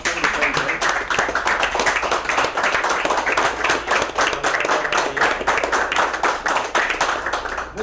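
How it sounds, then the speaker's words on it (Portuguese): A large audience gives a standing ovation to a speaker at a business roundtable event, dense sustained clapping filling the room steadily from start to finish, fairly loud and close. "Eu acho uma salva de palmas em pé para ele."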